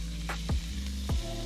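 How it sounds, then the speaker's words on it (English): Shrimp sizzling in a hot pan for pasta, a continuous close frying hiss with two quick sweeping squelches as pieces are moved around, over a steady low hum. "So now I'm gonna go ahead and drop these in."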